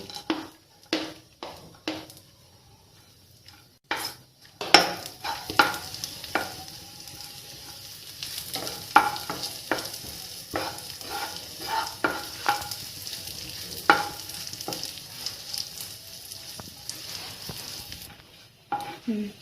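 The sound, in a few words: crushed nuts frying and being stirred in ghee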